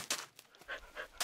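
Minecraft dog panting in quick, soft breathy huffs, a handful of short pulses at low volume, with no talking.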